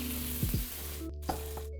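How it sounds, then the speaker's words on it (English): Curry paste roasting in a pan over heat, giving a brief close sizzle with a couple of quick stirring scrapes, then a steady low frying hiss. "So we're gonna roast the curry paste a little bit to give it some more flavor."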